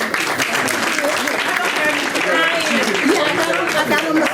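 Crowd clapping at a Black History celebration held by United Black Contractor at the Dock Bookshop, a sustained, even wash of applause with scattered voices and cheers rising through it.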